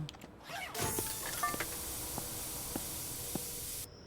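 A spray can hisses in the video game Internet Cafe Simulator 2, a steady, close spray lasting about three seconds with faint mechanical clicks, ending abruptly.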